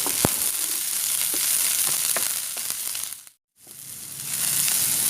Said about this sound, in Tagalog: Now we add the onions that we sliced earlier. Let's now stir fry the two together.